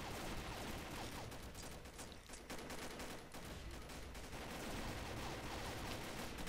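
Gunfire from a zombie round of the shooter game Combat Arms plays as steady, rapid, overlapping automatic bursts, fairly quiet and continuous throughout.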